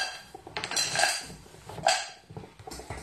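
White chocolate dropped into a saucepan makes close clatters and knocks of metal and utensils, a few louder clanks scattered among lighter rattles in a kitchen.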